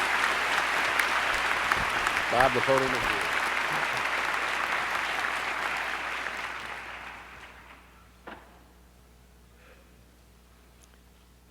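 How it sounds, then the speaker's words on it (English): Audience at a medical school graduation ceremony giving awardees a final round of applause, sustained and loud, then fading out over several seconds before someone briefly speaks. "I'd like to have one final round of applause for all of our awardees today."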